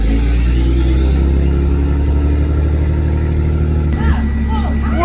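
A big OTR semi truck's engine idles close by in a steady low diesel rumble, loud and unbroken, with a faint clatter near the end.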